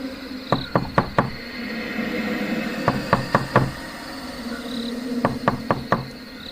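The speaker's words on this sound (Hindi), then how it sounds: "उस रात मेरी नींद टूटी थी एक अजीब दस्तक से।" Knocking on a door in three groups of four sharp, evenly spaced raps, close and loud, set against a steady bed of night insects and rain ambience for a Hindi horror story.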